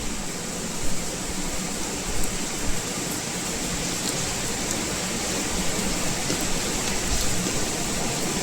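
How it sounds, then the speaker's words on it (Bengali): Heavy rain pours outside in a steady, dense hiss, constant and fairly loud throughout with no voices. "বাইরে এত পরিমাণে বৃষ্টি হচ্ছে"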